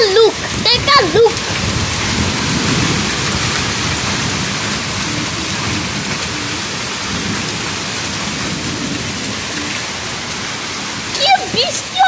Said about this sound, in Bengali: কি বৃষ্টি হচ্ছে, আর দেখো আমার গায়ে বরফ